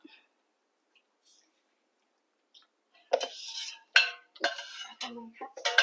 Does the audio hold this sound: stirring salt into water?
yes